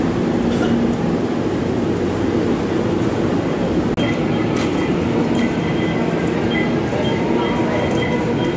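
An MRT 3 metro train at Trinoma Station, a steady loud rumble of cars with a brief clunk midway and faint wheel squeal, continuous throughout.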